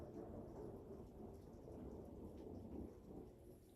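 Distant thunder rolls through a storm as a low, sustained rumble, faint and far off, with rain falling steadily throughout and no one speaking.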